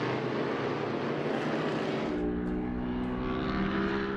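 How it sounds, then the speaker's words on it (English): A 1970 Ford Mustang race car engine roars past on track, a loud sustained rumble whose pitch drops partway through as it goes by and moves away, with no voices. "Ford Mustang coming at us."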